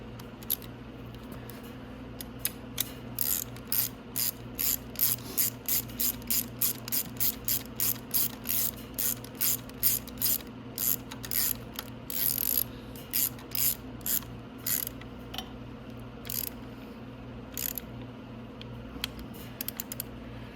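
Ratchet wrench with 14 and 12 mm sockets tightening the motor mount bolts on a Venom x22GT 250cc motorcycle, rapid clicking bursts repeating in quick strokes over a low steady hum, close and without talk.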